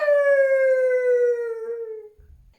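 One drawn-out jackal-like howl glides gradually downward in pitch and fades out after about two seconds, with no voices or other sounds around it.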